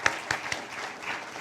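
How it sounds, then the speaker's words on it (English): Brief burst of audience applause at an economic development pub talk event, steady clapping from a modest crowd, moderately loud with a few sharper claps standing out. "Give them a round of applause."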